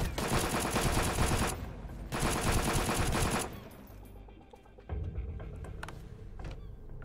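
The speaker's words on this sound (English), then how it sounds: "Shooting at the copper node." Rapid automatic gunfire aimed at a copper ore node in the survival game Sunkenland, with two loud sustained bursts followed by a few quieter, scattered shots.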